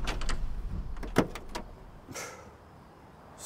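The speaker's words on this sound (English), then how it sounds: "Smooth, smooth action on the door." The door of a 1970 Chevy Chevelle SS 454 opening: a few soft mechanical clicks and a latch clunk, followed by quieter creaks and rustles in a calm, close setting.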